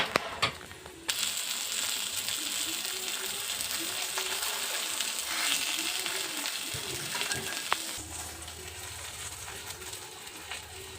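Food fries in a pan in a home kitchen, a faint, continuous crackling sizzle with a few sharper clicks and scrapes, heard close by with no speech.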